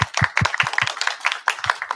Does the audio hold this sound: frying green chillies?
no